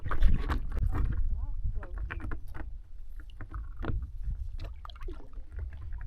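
Paddleboard paddle strokes dipping and pulling through the water of a canal on Mohun Lake, with close splashes and drips at an uneven rhythm while a person talks over them.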